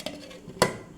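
A metal lid claps down onto a cooking pot holding a chicken and ash gourd curry, one sharp close clink after a faint earlier tap.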